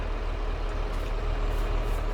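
A truck engine idles steadily in a farming simulator game, with a low, continuous rumble and a faint hiss on top.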